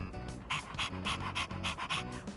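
Rapid, rhythmic panting from a dog in the Persona 3 Reload video game, about eight quick breathy bursts close up with no talking.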